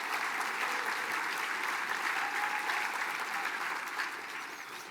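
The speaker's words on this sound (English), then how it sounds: "Let's give that a round of applause." Sustained applause from an audience during a tribal chief executive's speech, a dense, even wash of many hands clapping that holds steady for several seconds before easing slightly at the end.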